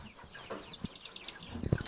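Chickens cluck in short bursts close by, with a sharper squawk near the end and some rustling between calls.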